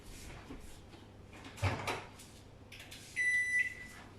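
A microwave oven with a micro-grill dish inside, set to 900 watts: a soft clunk, then a short run of bright electronic beeps from the control panel, heard close in a quiet kitchen.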